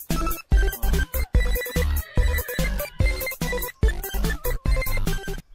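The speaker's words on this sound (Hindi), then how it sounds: "जरा फोन आया मेरा।" A mobile phone ringtone plays as a loud, punchy rhythmic tune in repeated bursts with short gaps, close and alone for several seconds.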